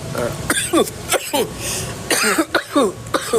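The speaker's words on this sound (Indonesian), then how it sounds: "Langsung batuk." Several rough coughs in a row, close and loud, mixed with bits of speech before and after.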